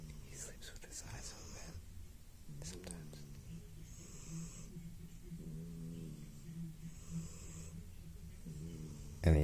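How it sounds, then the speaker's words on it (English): A pet snoring indoors, a steady low rasping snore running through the whole stretch with soft wheezy breaths and faint whispery background sounds. "And he snores."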